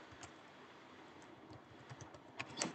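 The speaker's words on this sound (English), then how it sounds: "I know it, so I'm typing it myself." Quiet typing on a computer keyboard, a faint irregular patter of key clicks with a few sharper taps near the end, heard alone without talk.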